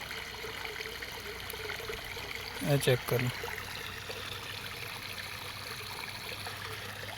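Water draining out of a flooded rice paddy field, a steady trickling flow in a rural outdoor setting, with someone speaking briefly over it.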